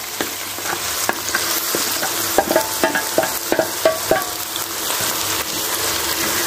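Small knife-cut pieces of mutton brain sizzle steadily in a tomato and onion masala, with a series of sharp spoon clinks and scrapes from stirring through the middle; no talking.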